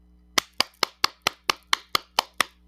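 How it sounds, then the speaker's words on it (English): A round of applause from close by: about ten sharp, evenly spaced hand claps in a steady rhythm, with no voices. "They deserve a round of applause. Let's give them a round of applause"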